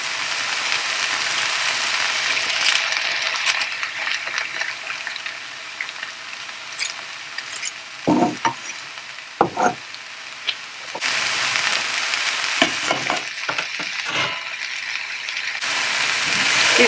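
Squeezed garlic cloves fry in a pan, a hissing sizzle running under repeated scraping and clattering from stirring, with some clicking bursts and brief pauses in between.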